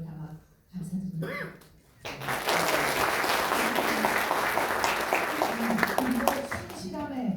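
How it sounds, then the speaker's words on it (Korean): Audience applause at a book launch celebration erupts after a spoken passage and holds as a dense, sustained round of clapping, with a voice heard before it begins and briefly near the end. "그리고 신실함의 존경과 용기 그리고 격려의 박수도 저희들도 보내드립니다"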